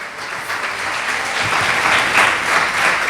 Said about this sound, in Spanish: Denle un aplauso fuerte a la palabra de Dios.